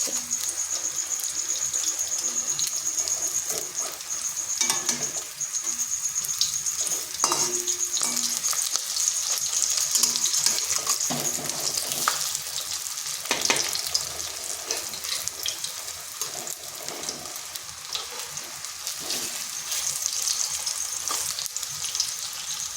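Fish fritters coated in onion and gram flour sizzle and crackle steadily in a pan of hot oil, a continuous close frying hiss with occasional clicks and scrapes as pieces are turned.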